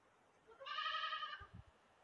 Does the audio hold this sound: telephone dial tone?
no